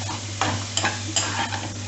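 A spoon stirs vada curry in a frying pan, with three or four distinct scraping strokes and light clinks over a soft background sizzle, close and clear with no voices.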